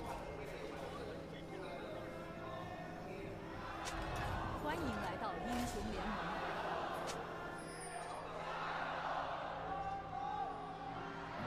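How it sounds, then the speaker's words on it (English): Cheering and whooping from a crowd at a League of Legends LPL playoff esports match, a broad sustained roar swelling around the middle and again near the end, with voices mixed in. "I'll let the crowd have a word before we continue."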